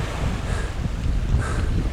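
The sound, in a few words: ocean waves and wind while kayaking in Bay of Fundy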